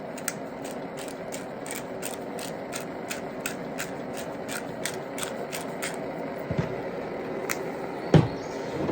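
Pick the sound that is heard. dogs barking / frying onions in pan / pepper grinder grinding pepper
pepper grinder grinding pepper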